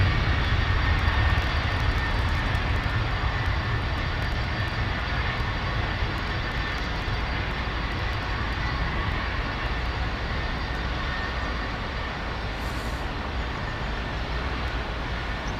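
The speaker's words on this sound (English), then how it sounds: "Rolls-Royce RB211s, of course, powered all of the British Airways 747 fleet" Aircraft powered by Rolls-Royce RB211 engines, like the British Airways 747 fleet, at London Heathrow: a loud, sustained jet engine roar with broad rushing noise, steady and continuous for the whole stretch, with no talk over it.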